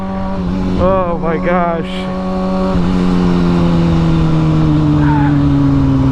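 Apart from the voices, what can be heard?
new motorcycle engine revving while riding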